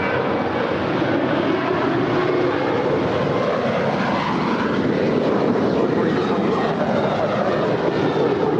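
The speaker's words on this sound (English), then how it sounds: "That's Air Canada, Flight 775, coming in from Montreal. It's an A220-300" An Air Canada Airbus A220-300 jet arrives at LAX from Montreal, giving a steady, fairly loud engine roar that holds even throughout with no speech over it.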